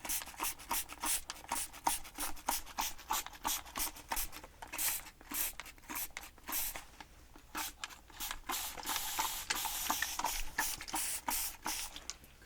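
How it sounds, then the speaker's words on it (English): Repeated short hissing bursts of a water spray bottle misting hair during a wig install, pumped in quick irregular squirts, fairly quiet and close, with no talking. "I'm going to go in with some spray, water spray, just to rinse this off"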